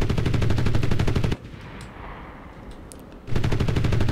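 Aircraft gunners rattle off machine-gun fire in Enlisted: a long, loud burst, a short lull of lower background noise, then another burst.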